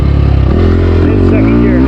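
SSR 300 motorcycle engine revving hard in first gear, loud and close, a steady buzzing drone that climbs in pitch, with a voice talking over it.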